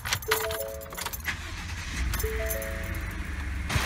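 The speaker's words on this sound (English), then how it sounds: "Let me go ahead and start the vehicle up." A Ford F150 EcoBoost truck is started after rain: keys jangle, a tonal chime sounds twice, and a low vehicle rumble continues underneath, all close by.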